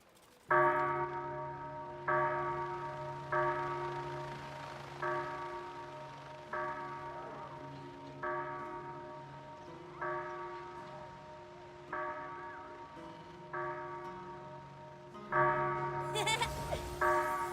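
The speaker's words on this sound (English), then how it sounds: "Ring the bell." A bell tolls in Crimson Desert, struck about a dozen times at an even, unhurried pace; each clear ringing note decays before the next, and a louder burst closes the sequence.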